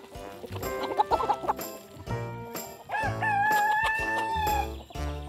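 Roosters in a farmyard poultry run cluck in quick bursts, then one crows loudly and close by in a long drawn-out call, followed by more clucking.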